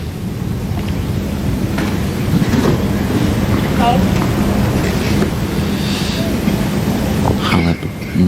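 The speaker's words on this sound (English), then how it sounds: "Gust of wind." A gust of wind sweeps across an outdoor grass tennis court at Wimbledon, a loud broad roar of buffeting microphone noise under crowd murmur and a commentator's voice.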